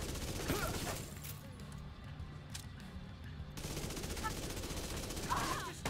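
Rapid automatic gunfire from a high-rate-of-fire gun in a first-person shooter game, a dense bursting rattle running nearly throughout, with a speaking voice faintly underneath.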